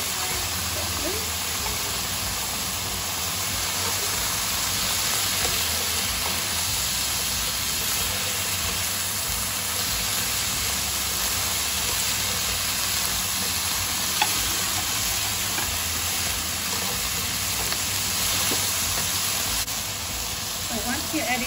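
Broccoli sizzling steadily in a hot wok or pan while being stir-fried for vegetarian crispy noodles, a dense continuous frying hiss with occasional stirring clatter, close and loud throughout.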